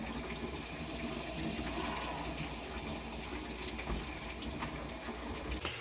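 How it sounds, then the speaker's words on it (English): Walls are sprayed down with Dawn Powerwash dish spray, giving a continuous, even hiss of spraying liquid at close range with no talking. "So I just sprayed the walls down with the Dawn Power Wash."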